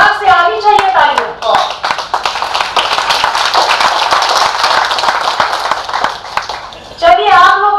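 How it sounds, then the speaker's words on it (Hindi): An audience in a university auditorium in Dehradun claps with dense, sustained applause that swells and fades, with a voice speaking at the start and end. "पूरे सभागार से आनी चाहिए तालियां।"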